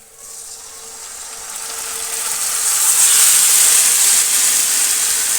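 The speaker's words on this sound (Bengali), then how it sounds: "কড়াইয়ের মধ্যে সমস্তটাই ঢেলে দিয়ে দিলাম" Marinated meat poured into hot oil in a wok gives a loud, steady hiss that swells over the first few seconds and then holds strong, with no voices.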